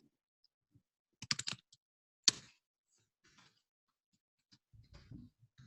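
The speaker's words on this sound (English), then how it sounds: "Oh, she's still typing." Faint computer keyboard typing in a quiet room during an online hackathon Q&A: a short flurry of clicks, a single sharper tap a moment later, then near silence with soft low rustling at the end.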